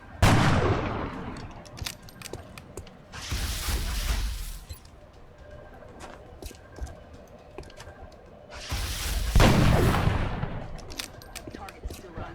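Two gunshots from the turn-based game XCOM: Art of War ring out as separate loud bursts several seconds apart, each trailing off, while keyboard typing clicks and faint background sounds fill the gaps.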